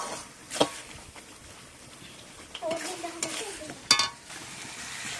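Spice masala frying in oil in a pan while being stirred, before mutton goes in: a soft continuous sizzle with occasional scrapes and clinks of a spoon, under faint background voices.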